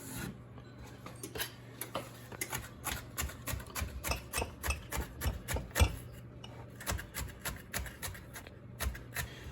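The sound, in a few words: knife chopping ingredients into small pieces for crab stuffing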